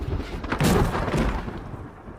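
A deep, rolling thunderclap from a movie scene, booming up quickly and rumbling for over a second before fading, loud and close with no talk.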